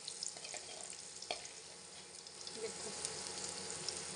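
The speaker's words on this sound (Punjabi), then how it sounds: "ਕਿਉਂਕਿ ਤੇਲ ਆਪਣਾ ਗਰਮ ਸੀ ਜੀ, ਵਧੀਆ ਗਰਮ ਸੀ, ਲਸਣ ਆਪਣਾ ਬਰਾਊਨ ਹੋ ਗਿਆ" Garlic frying in well-heated oil in a home kitchen while cooking a pea and potato tadka, a steady soft sizzle and crackle throughout, with a brief spoken word over it.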